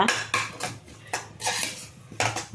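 Rava (semolina) being stirred in a metal pan for a sweet, a spoon scraping and clinking against the pan in repeated bursts of strokes, close and moderately loud, no voices.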